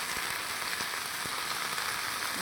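Mutton frying in a pan over a wood-fire stove, a steady dense sizzle that stays even and fairly loud throughout, with no voices.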